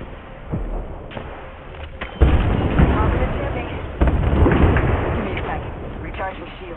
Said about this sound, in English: Throw my grenade.